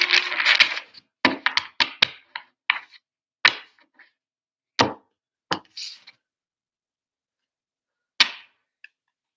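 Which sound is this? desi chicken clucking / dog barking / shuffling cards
shuffling cards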